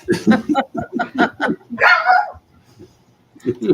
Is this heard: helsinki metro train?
no